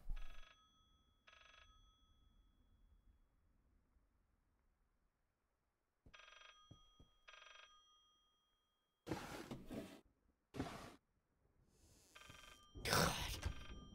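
Telephone ringing in the horror game Layers of Fear: two short bursts of a bright electronic bell, a pause, then two more, followed by louder clatters and knocks near the end.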